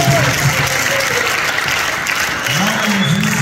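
A church congregation at the Tabernacle of Louisville claps in sustained, dense applause, close and loud, while a voice speaks over it at points.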